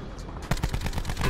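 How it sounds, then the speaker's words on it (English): Rapid gunfire in a Black Ops Blackout match, a dense burst of overlapping shots that rises abruptly and continues loud and unbroken under steady game noise. "Oh my god, they're shooting me, they're shooting me."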